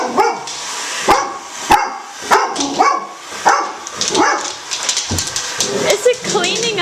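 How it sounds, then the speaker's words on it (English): A Golden Retriever barks repeatedly at a Bissell robot vacuum indoors, sharp loud barks spaced irregularly with some yips, while people talk over the scene and the vacuum hums underneath. "this is our big guard dog."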